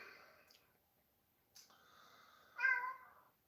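Three meow-like calls from a cat, or a voice imitating one, come one after another: two short, soft cries, then a louder, longer meow near the end, with quiet pauses between them.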